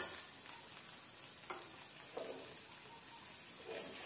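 Tofu and sauce ingredients fry in a pan, a faint, steady sizzle with a few soft clinks and stirring sounds scattered through, no talking.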